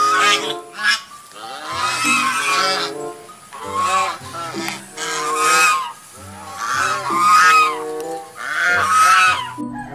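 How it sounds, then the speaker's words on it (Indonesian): A white goose honks over and over in loud, close, nasal calls, the honks coming in a steady series with short gaps between them. "Widih, ini hewan angsa,"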